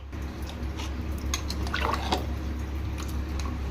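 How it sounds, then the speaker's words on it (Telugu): Water poured into a country chicken (natu kodi) gravy in a pressure cooker makes soft splashing and bubbling pours over a steady low hum, close by. "మీ గ్రేవీ థిక్నెస్ని బట్టి వాటర్ వేసుకుందాం"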